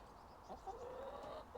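A flock of eleven chickens, including White Sussex, Marans, Speckledy, White Leghorn and Skylines, clucks softly on an allotment, a few brief faint calls over quiet outdoor background.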